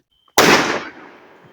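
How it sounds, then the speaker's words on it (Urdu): A firecracker explodes at a wedding function in Murree: after near silence with a faint tone, one sharp, loud bang hits, then a rough, crackling decay fades out over about a second. "اس کے بعد ہم نے پٹاخہ چینج کیا اور ہم آگے دوسرے پٹاخے کی طرف"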